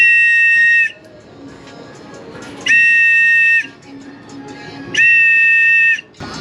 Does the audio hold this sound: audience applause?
no